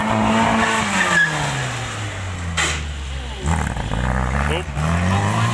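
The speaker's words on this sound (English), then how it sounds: "A few of you wincing at the gears crunching there" A lightweight stunt car under half a tonne with over 100 brake horsepower skids at an outdoor show, engine revving and tyres squealing through long slides, with gear crunches and a commentator talking over it.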